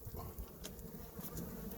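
Honey bees buzzing steadily inside an open long horizontal hive during an inspection, a dense continuous drone of many insects close by with no talking.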